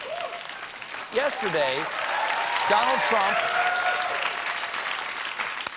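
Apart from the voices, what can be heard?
studio audience clapping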